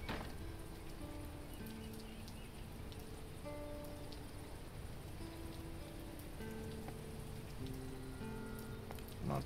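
Rain patters steadily in the survival video game Mr. Prepper, a soft continuous hiss with faint drops, accompanied by gentle sustained music tones.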